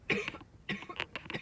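A few quiet, rasping coughs in quick bursts, faint and somewhat distant, with short pauses between them.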